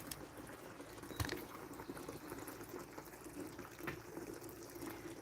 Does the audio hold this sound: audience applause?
no